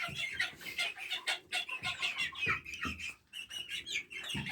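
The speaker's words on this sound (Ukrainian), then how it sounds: "Курчатка після пропойки від коксидіозу." Young chicks and hens on a home poultry yard, recovering after treatment for coccidiosis, give a dense stream of high peeping chirps with soft hen clucks underneath, steady and close throughout.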